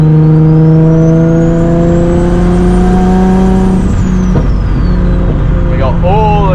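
A 500HP RB26-engined Nissan S15 cruising on a mountain road drops down a gear, a loud steady engine drone inside the car shifting pitch as revs change, with a voice talking over it.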